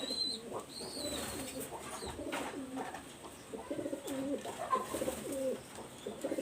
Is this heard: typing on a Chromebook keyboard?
no